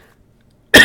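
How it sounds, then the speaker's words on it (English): A single sharp cough bursts out near the end after near silence, close and loud, during a tabletop role-playing session. "Sorry about all the coughing."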